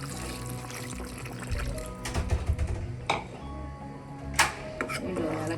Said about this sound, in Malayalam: 1 ഗ്ലാസ് ചൂടുവെള്ളം കൂടെ ഒഴിക്കാം.